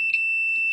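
A multimeter gives a steady, continuous high-pitched continuity beep while its probes test the coil of a washing machine motor, sounding close and clear for under a second with no talk.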